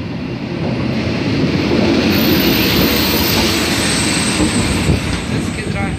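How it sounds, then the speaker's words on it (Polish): An intercity passenger train rolls through Czechowice-Dziedzice station with a loud, steady, close roar of wheels and rumble that holds for the whole stretch. "pociąg do Pragi."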